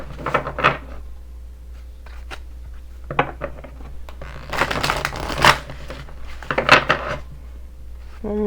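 Tarot cards being shuffled by hand at close range, irregular bursts of riffling and slapping card noise with pauses between, alone and without speech.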